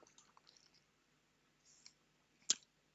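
A single sharp computer mouse click on a run button, heard close and clear after a stretch of faint, scattered desk noise, with no talking.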